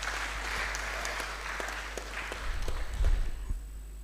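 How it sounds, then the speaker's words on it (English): An audience at a graduate research policy forum closing ceremony breaks into sustained applause for the IT team, a dense steady wash of many hands clapping that swells louder near the end before fading. "Can we offer them a hand clap?"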